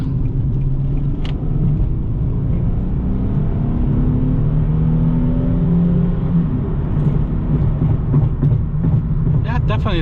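A 2015 Nissan 370Z base coupe with a 7-speed automatic accelerates, its engine a loud, steady low rumble heard from inside the cabin, rising gradually in pitch, with a brief voice near the end.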